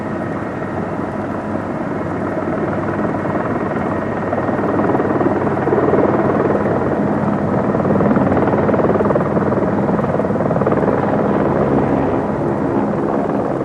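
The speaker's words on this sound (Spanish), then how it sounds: "Al oír el sonido del helicóptero, los campesinos se reúnen en los arrozales cercanos a las excavaciones." A helicopter hovers low over marshy rice fields near excavation sites in Vietnam, its steady rotor and engine roar filling the air loudly and continuously, with some wind buffeting the microphone.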